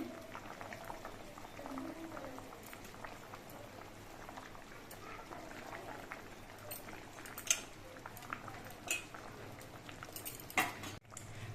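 Fried hilsa fish pieces go into a simmering curry of potatoes and green banana, with a quiet, continuous bubbling and a few faint clinks of utensils against the pot.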